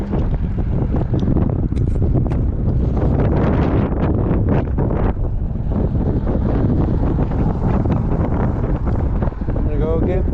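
Strong 30+ mph wind gusts buffet the microphone during a cold 33°F ride on an Ecotric 20-inch 48V fat-tire e-bike, a constant loud roaring rumble with rough fluctuating bursts and no break.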